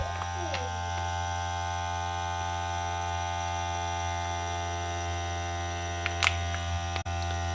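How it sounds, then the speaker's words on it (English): Vacuum sealer pumping air out of food bags for sous vide chicken ballotine, a steady low motor hum and buzz running throughout, with a small click near the end. "So I'm just going to vacuum and seal these."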